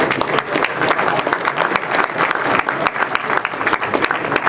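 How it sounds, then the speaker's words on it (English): Audience of around 330 people at a packed Oregon AMS weather meeting applauds, a dense, steady burst of clapping lasting several seconds with no speech over it. "So give yourself a round of applause."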